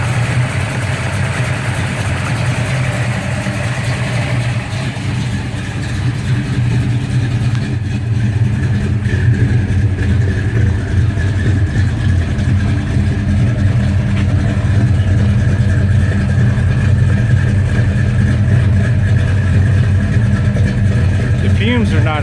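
A Gran Torino V8 fitted with MSD Atomic fuel injection runs at a steady idle, with a low, continuous engine rumble that stays loud and close the whole time and has no clear revving.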